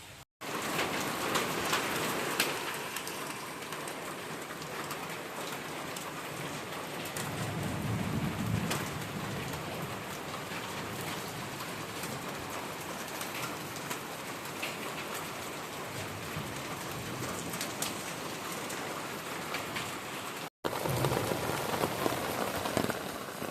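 Steady heavy rain with hail pours down continuously in the first storm of the year, with a low rumble of thunder rolling in the middle and no voices.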